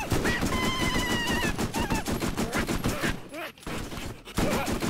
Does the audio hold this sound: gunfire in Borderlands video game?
yes